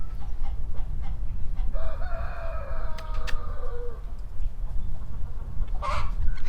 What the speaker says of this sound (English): I'll show you my favorite rooster.